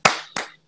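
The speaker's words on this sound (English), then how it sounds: "I love the claps." Two quick sharp hand claps ring out close up to welcome a guest, one strong and then one slightly softer about a third of a second later, each with a short room echo.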